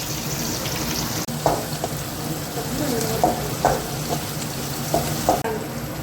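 Fenugreek seeds and curry leaves sautéing in oil for a fish curry, a continuous close sizzle with repeated stirring scrapes and clinks of a spoon against the pan, no talking.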